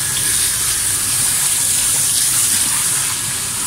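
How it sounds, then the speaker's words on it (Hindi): Water gushes steadily from a tap or shower while shampoo is rinsed off a dog during grooming, a loud, continuous, close rush with no breaks and no talking. "पूरा पानी निकल रहा"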